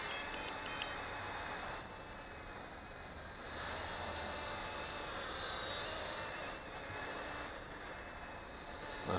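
A Heli-Max 200 FP V-Cam radio-controlled helicopter flies low outdoors in a light breeze, giving a faint, thin high whine that rises and falls slightly over soft wind noise.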